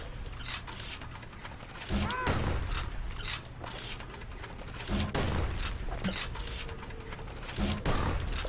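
The Kid's gun fires in Bastion, bursts of sharp shots landing at irregular intervals over a low background rumble, each volley a brief crack against the game's ambient bed.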